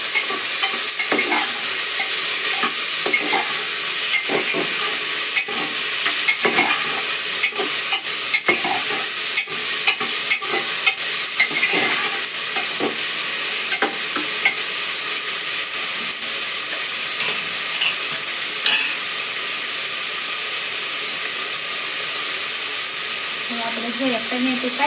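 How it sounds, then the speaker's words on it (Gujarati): Vegetables with pigeon peas (tuvar) and salt frying for Gujarati undhiyu, a loud, steady hiss and sizzle running throughout, with repeated close clicks and scrapes of a spoon stirring the pan. "આ બધું હલાવી દઈશું."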